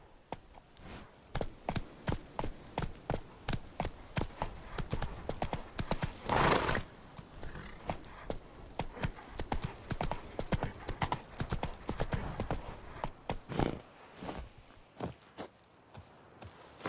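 A horse's hooves clop rapidly on hard ground in The Witcher 3, a quick, rhythmic, close drumming with a couple of louder snorts or whinnies breaking through, steady for the whole stretch.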